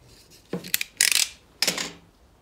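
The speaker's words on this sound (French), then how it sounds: "Moi j'utilise un simple cutter." Several short scraping, rasping strokes of a utility knife cutting insulation off the electrical cord of a bench grinder, three main bursts with small clicks between them, close and fairly loud.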